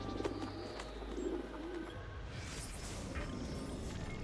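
Pigeons coo softly at a dovecote in Assassin's Creed Brotherhood, low repeated calls set against quiet game ambience with a faint rising whoosh partway through.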